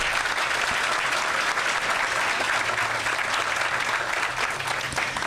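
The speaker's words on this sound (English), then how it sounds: "And just clap it up for yourselves one time." A crowd at a ribbon cutting and grand opening for The Warehouse claps steadily and loudly, a dense, even wash of applause that carries through the whole stretch without a break.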